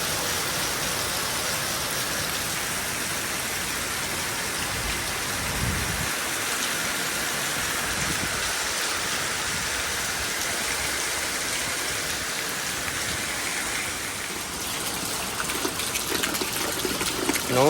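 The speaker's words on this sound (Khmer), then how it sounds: "ច្រើនណាស់ភ្លៀង" Heavy rain pours down in a Florida back yard, a dense, loud, steady roar of water that continues unbroken throughout with no voices.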